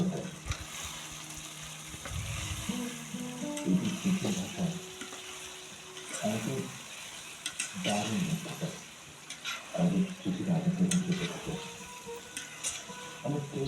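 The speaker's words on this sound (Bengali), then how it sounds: "সুন্দরভাবে আলু দিয়ে আমি মাংসটা কষিয়ে নিচ্ছি" Meat and potatoes cook in a pot for a home-style biryani, with a low, steady sizzle and repeated scraping stirs of a spoon. A voice talks intermittently over the cooking.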